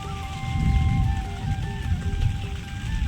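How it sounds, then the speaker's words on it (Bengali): Light drizzle falling on a covered doorway area under trees during a cloudy monsoon morning, a steady soft patter of raindrops with faint rumbling underneath, no voices. "এই দেখো আওয়াজ শুনে তোমরা বুঝতেই পারছো, বৃষ্টি পড়ছে গুড়ি গুড়ি"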